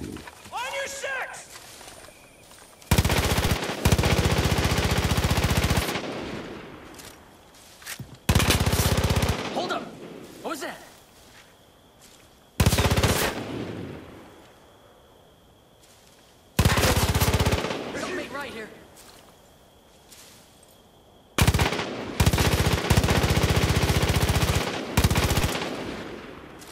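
Bursts of loud automatic gunfire at a shooting practice range in the Far Cry 5 video game, each burst lasting several seconds and breaking off sharply, with quieter game ambience and voices between them.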